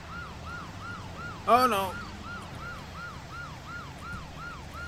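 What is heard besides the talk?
siren in a video game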